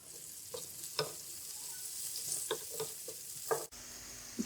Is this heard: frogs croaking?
no